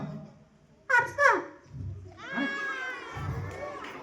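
A man does a mimicry act, imitating a baby goat's bleat with short wavering cries followed by a longer quavering bleat, close and fairly loud, with faint background voices.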